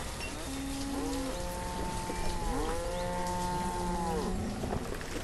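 Cows low in the farming video game Banished, several long overlapping moos rising and falling over a constant hissing background, fairly loud and with no talk.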